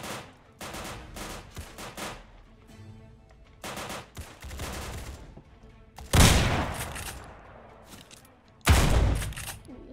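Shotgun fire in the Roblox game Doors: bursts of rapid close gunshots, then two loud booming blasts that stand out clearly, with no talk.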